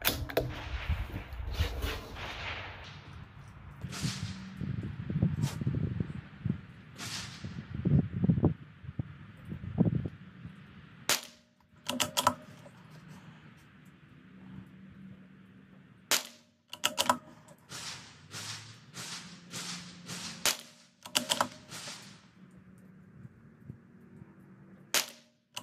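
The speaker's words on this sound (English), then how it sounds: "So I'm gonna kick this off shooting the Ruger Precision first," A Ruger Precision rifle fires CCI standard velocity ammunition at a 100-yard range, sharp cracks spaced irregularly over a long stretch, some clustered closely, with quieter handling noises between shots.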